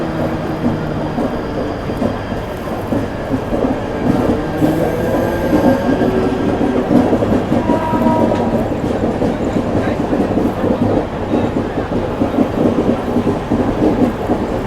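Mumbai local trains pass close by in succession, a continuous heavy rumble of wheels and rattling carriages that holds steady throughout, with faint voices underneath.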